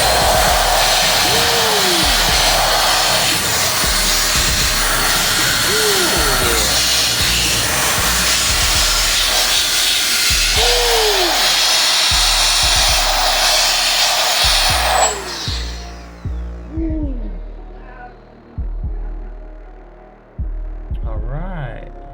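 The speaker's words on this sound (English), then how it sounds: "I'm gonna use my little blower. Kinda loud, but we're gonna try to get some of this dusted" A small handheld air blower roars steadily and loudly while dusting the fans of a PS4 console, running continuously for about fifteen seconds, then cutting off and restarting in several short bursts.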